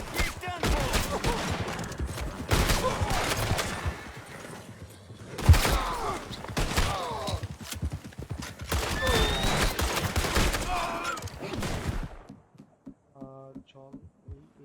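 Rapid gunfire rattles in Red Dead Redemption 2 gameplay, dense volleys of shots and impacts running for about twelve seconds before cutting to near silence with a faint musical tail.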